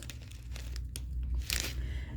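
A plastic bag of macaroni pasta is crinkled and handled up close, giving short uneven rustling and crackling bursts with a louder crunch near the end.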